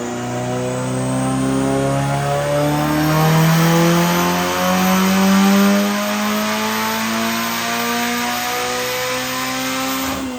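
A Chevrolet Cruze engine revving hard and holding high RPM, a loud, sustained, rising and falling drone with strong harmonic whine, close up, and no talking.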